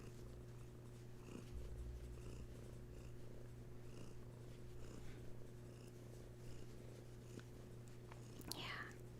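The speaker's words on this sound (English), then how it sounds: "It's a big purr." A cat purrs loudly and steadily close by, a continuous low rumbling drone running through the whole stretch, with faint background noise and a brief sharper sound near the end.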